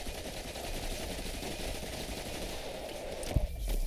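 In Destiny 2, a Thunderlord machine gun fires inside a lost sector, producing a dense, continuous stream of rapid gunfire at modest volume, with a sharper crack near the end.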